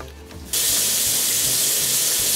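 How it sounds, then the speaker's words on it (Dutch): Warm water runs steadily from a tap, starting abruptly after a brief quiet moment and then pouring loud and continuous as brushes for a horse or pony are readied for washing. "Ik ga eerst alles onder de warme kraan houden."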